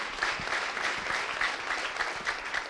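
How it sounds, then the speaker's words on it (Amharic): A church congregation claps steadily and continuously throughout a worship service, a dense and even wash of many hands with no voices above it. "አጨብጭቡ ለጌታ ክብር።"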